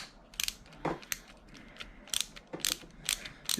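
Screws being backed out of the plastic chassis and transmission of a Losi Mini-T 2.0 RC car, giving faint, close ratcheting clicks in short irregular bursts.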